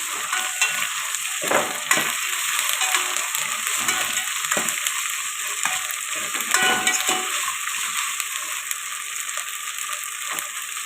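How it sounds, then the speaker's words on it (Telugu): Ginger-garlic paste sizzles and fries in a pan for prawn pulao, a steady hiss with intermittent scraping stir strokes, close and continuous without talk. "ఒక స్పూను అల్లం వెల్లి పేస్ట్ వేసుకున్నాం ఇది కూడా పచ్చివాసన పోయేదాకా ఫ్రై చేసుకున్నాం"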